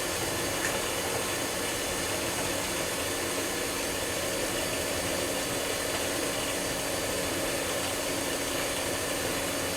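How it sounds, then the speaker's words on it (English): An electric mixer whirs steadily on low speed through pizzelle cookie batter, a constant motor drone with a faint rough edge, close by and with no voices. "We're mixing it on low right now."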